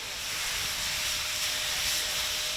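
Union Pacific Big Boy steam locomotive letting off a steady, loud hiss of steam, broadband and continuous without a break, with no talking over it.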